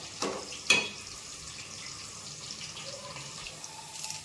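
Onion fries in a pan, a soft steady sizzle with two sharp clatters near the start, heard alone at moderate level.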